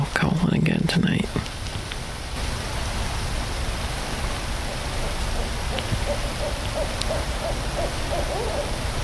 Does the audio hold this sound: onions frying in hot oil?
no